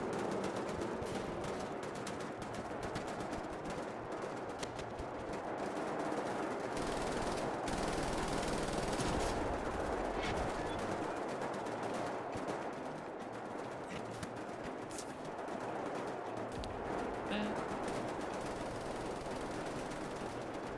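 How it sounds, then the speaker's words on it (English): A turret machine gun in Wolfenstein: The New Order fires long, sustained bursts of rapid, rattling gunfire at moderate loudness, continuing almost without a break for about twenty seconds with brief pauses. "There's another turret over here."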